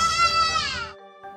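A single wavering bleat from a lost baby deer calling for its mother, high and plaintive, close up, trailing off abruptly into near silence.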